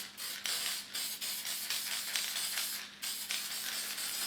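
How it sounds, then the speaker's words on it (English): Crystal clear coat sprayed from an aerosol can onto a white tile in short hissing bursts, a steady run of close, bright spray pulses with brief pauses between them. "Give it a light spray just to protect it."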